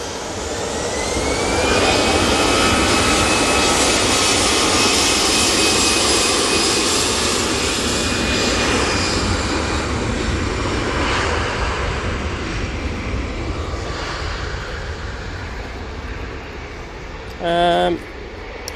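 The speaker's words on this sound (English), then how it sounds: "Next out, we do have the EasyJet. This one is off to Paris Charles de Gaulle." EasyJet jet airliner taking off from Manchester Airport, a loud, close jet roar with a rising engine whine that slowly fades, followed by a brief clattering sound near the end.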